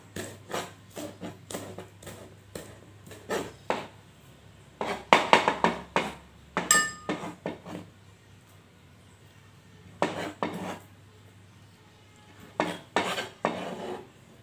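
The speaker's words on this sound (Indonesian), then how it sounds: "Daun bawangnya kita potong juga. Kita potong kasar ya." A knife chops spring onions coarsely on a board, with a series of sharp, close knocks in uneven bursts separated by short pauses and an occasional light clink of utensils.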